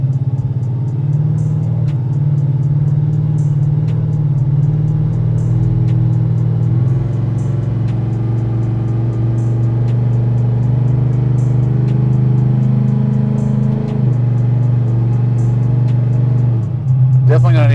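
A Bubble Impala SS with a nitrous LSX 454 engine being driven, a steady deep engine drone held close and loud throughout, with a brief rise near the end.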